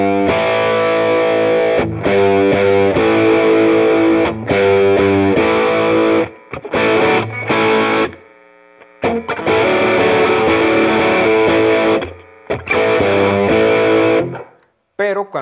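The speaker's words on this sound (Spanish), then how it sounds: "en la posición del puente con humbucker funciona muy bien para la distorsión" Fender Player Jaguar electric guitar played through heavy distortion on its bridge humbucker, chords and riffs strummed loud in bursts separated by short silences and one longer gap, with sustained ringing notes.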